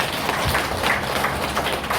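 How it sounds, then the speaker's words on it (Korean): An audience at a Buddhist dharma talk at Yeonggaksa temple hall claps on request, a dense, even patter of many hands lasting about two seconds. "박수 한번 쳐요. 박수 한번 쳐."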